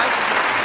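A studio audience at a televised singing show claps in a brief, dense burst, loud and close, with no voices over it.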